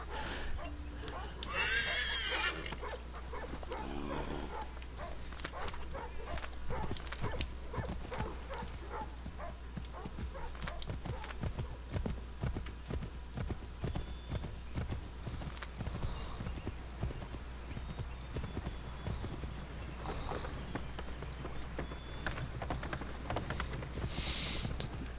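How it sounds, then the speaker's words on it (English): Horse in Assassin's Creed III neighing and whinnying with steady clip-clop hooves running throughout, loud and close, alongside game music and a voice talking over it. "Hey, now I have a horse."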